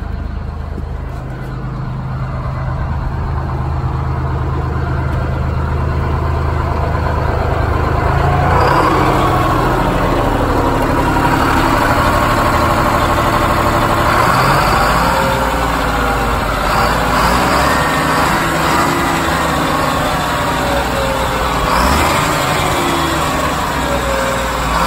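A 12V71 Detroit Diesel engine in an MC6 bus runs steadily in a loud, continuous idle, then climbs in a throttle-up rise about a third of the way through and holds a rougher, busier drone.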